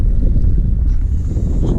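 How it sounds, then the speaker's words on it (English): Strong, very cold wind buffeting a microphone outdoors at Norton Disney, England, a constant low rumbling roar with no voices. "Very windy, very cold."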